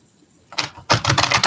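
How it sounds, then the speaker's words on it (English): Oracle cards being shuffled by hand during a chat, heard as a brief riffle followed by a longer, louder run of rapid papery flutters and taps, close and alone with no voices. "So I'm just going to shuffle some cards"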